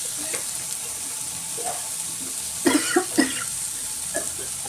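Coriander being stirred into a sizzling pan, giving a steady faint frying hiss broken by a few scraping stirs, with a cluster of throat-clearing coughs in the middle.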